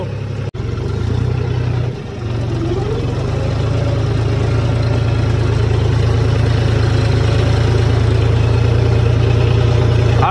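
A heavy Arjun 555 DI tractor engine idles steadily and close by in a field, a deep low rumble with a brief dip early on before settling into a constant drone.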